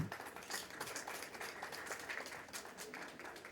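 Audience applause at the AMVCA 12th edition press conference, an African film awards event. Steady, moderate clapping comes from a room of people, fairly faint and sustained throughout.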